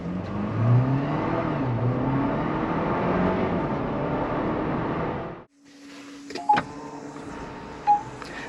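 GWM Tank 500 Ultra HEV hybrid 4x4 accelerating at full throttle, a steady rising engine and road roar heard from inside the cabin that cuts off abruptly, followed by quieter ambience with a couple of faint clicks.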